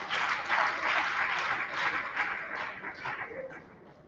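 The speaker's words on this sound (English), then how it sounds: "A round of applause, please." An audience at a voter-access event for persons with disabilities gives a round of applause, fairly soft and distant, swelling briefly then fading out toward the end.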